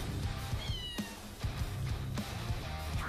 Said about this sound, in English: She hears the meow.